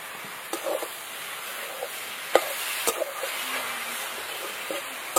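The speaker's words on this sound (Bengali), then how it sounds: "সব কিছু দিয়ে এবার বাঁধাকপিটা ভালো করে কষিয়ে নেবো" Faint spoon or spatula stirring in a pan as boiled cabbage is sautéed with ground coriander, cumin paste and turmeric: sparse, light scrapes and clinks with a soft background hiss, heard close up and with no voices.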